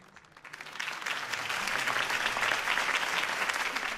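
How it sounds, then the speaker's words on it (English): Video game crowd applause swells from light clapping into a full, steady round of dense clapping that continues throughout. "could have heard that applause"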